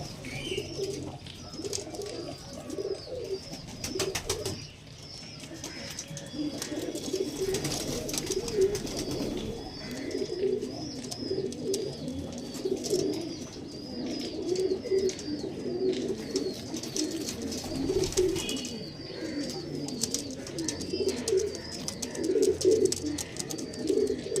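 Andhra Madras pigeons, breeding pairs kept at a home loft, coo over and over in soft throaty rolls, several birds overlapping at close range against a low background hum.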